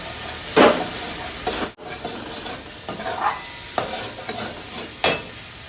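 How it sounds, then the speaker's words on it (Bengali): Spices such as turmeric, cumin powder, coriander powder and sugar frying in oil in a pan, with close sizzling and several distinct scraping stirs spread across the clip. "ধনে গুঁড়ো, চিনি, সব মশলাগুলো ভালো করে কষিয়ে নেব।"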